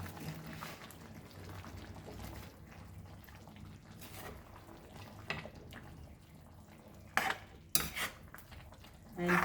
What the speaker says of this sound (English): we will mix this nicely